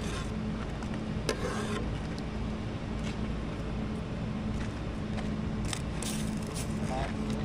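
Green chillies sizzling in a frying pan of Maggi noodles with onion and tomato, a steady broadband hiss running throughout with occasional clinks, while someone talks over it.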